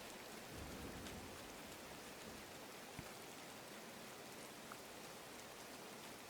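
Steady rain pours down over a desert area in the Disney Dreamlight Valley video game, a continuous even hiss of falling drops with no voices.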